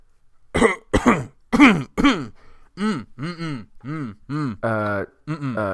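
A voice imitating a cough: four sharp, harsh hacks, followed by drawn-out vocal groans and moaning sounds, close and loud.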